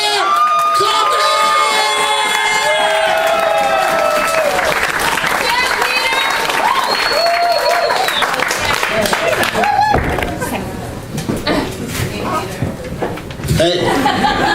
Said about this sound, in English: I want everybody to give a big round of applause for Peter Coffey!